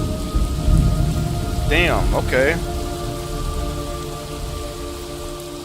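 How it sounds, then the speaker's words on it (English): Rain and thunder in Metal Gear Solid Delta: Snake Eater, a steady hiss of rainfall with low rumbling thunder early on, while someone speaks briefly over the storm. "It's raining blood."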